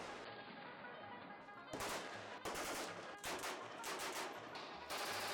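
Gunfire at an outdoor shooting range where shooters fire on old cars, boats and kitchen appliances, a dense fusillade of rapid bursts, some machine-gun fast, heard at a distance and sounding continuously for several seconds.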